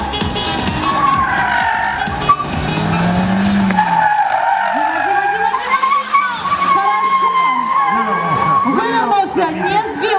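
A car skids and its tires squeal loudly through sweeping turns in a speed maneuvering competition at a Belarusian championship in Molodechno, the engine revving and the pitch rising and falling, while a commentator talks over it throughout.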